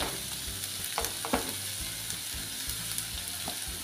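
Onion, cabbage and carrot sizzling steadily in a hot pan for veg fried momos filling, a continuous close frying hiss with a few sharp clinks of a spoon stirring against the pan.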